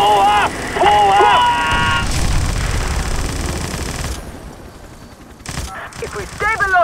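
Video game gunfire from gun emplacements in a valley, in 50 Cent: Blood on the Sand, rattles in loud bursts amid engine noise, with voices shouting at the start and near the end.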